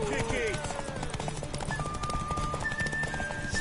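Hooves clip-clopping in a fast galloping rhythm amid a busy soundscape in The Witcher 3: Wild Hunt, with a horse whinny near the start and a voice over it.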